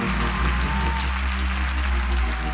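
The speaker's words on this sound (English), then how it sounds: "Clap your hands and praise God for this brother." A church congregation claps their hands in praise, rhythmic clapping heard over a loud, sustained organ or keyboard chord in a reverberant sanctuary.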